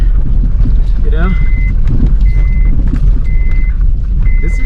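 Honda Pilot all-wheel-drive SUV rolling along a snowy mountain road, a steady loud low engine and road rumble filling the whole stretch, with brief beeping tones and a voice heard over it.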